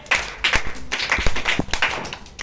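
A group at a classroom cybersecurity workshop claps together in a few short rhythmic bursts, close and fairly loud, each round of sharp hand claps separated by brief pauses.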